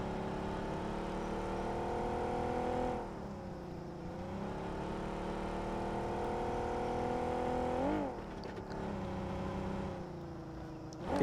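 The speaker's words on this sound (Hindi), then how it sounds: "तो घूमने लग गया गाड़ी लेके" A car driven around in a battle royale video game, its engine droning steadily and rising and falling in pitch as it revs and shifts, close and continuous with no talking.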